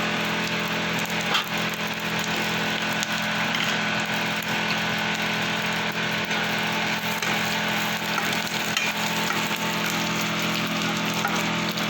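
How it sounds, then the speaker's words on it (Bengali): Asafoetida, radhuni seeds and dry red chillies spit in hot mustard oil in a kadai, a loud, steady, close-up sizzle that holds evenly from start to finish without talk. "কড়াইতে দেবো একটু সর্ষের তেল, ফোড়নে দেবো একটু হিং দেবো, রাঁধুনি আর শুকনো লঙ্কা"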